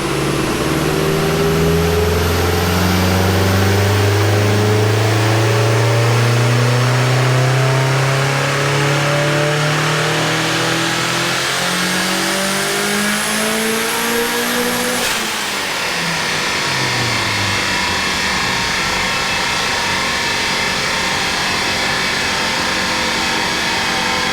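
Mk2 GTI with a 1.8T 20v engine and T70 turbo, held on a dyno as it revs steadily higher in a loud, continuous rising drone, then the revs drop and settle at a lower pitch, with turbo whine over the engine roar.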